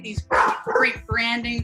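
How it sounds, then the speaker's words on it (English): A dog barks a few times in the background behind a person talking during an interview, the barks short and partly buried under the speech. "Sorry about the dog."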